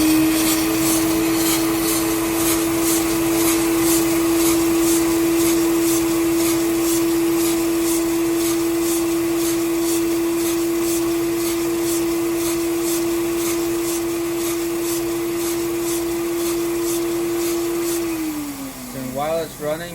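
A rotary abrasion tester runs with a steady motorized whine and a rapid rhythmic rubbing pulse from its abrasion wheels, continuously under a vacuum hiss, then winds down at the end.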